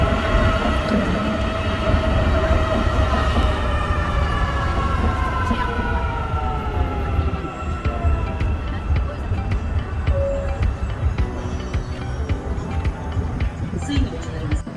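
An Istanbul MRT metro train runs on an elevated track near Haliç Station with a loud, continuous rumble and a gliding mechanical whine that fades as it passes. Voices murmur underneath.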